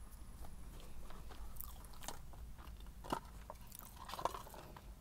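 Close, crisp crunching and biting on Jack in the Box popcorn chicken, a steady run of chewing with sharper crunches near the end, no talking.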